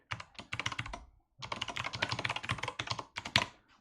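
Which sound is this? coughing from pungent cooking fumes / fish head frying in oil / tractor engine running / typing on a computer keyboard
typing on a computer keyboard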